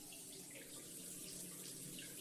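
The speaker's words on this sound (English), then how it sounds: "Turned on the water." Bathroom water tap running into a sink, a steady faint rushing splash that continues unbroken throughout.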